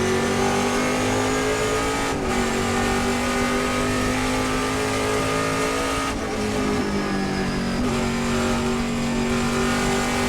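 Trans Am race cars roar around the Thunderhill circuit with loud, sustained engine drone. Downshifts and brief dips in pitch cut through the steady racing noise.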